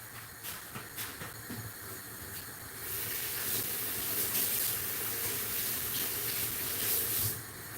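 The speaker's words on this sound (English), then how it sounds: "I'm just rinsing off the garlic so I can cut them up inside of the bowl as well." Water runs steadily over garlic being rinsed, a soft hissing splash that swells louder partway through and stays constant, with faint clinks early on.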